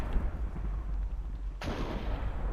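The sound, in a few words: thunder during a storm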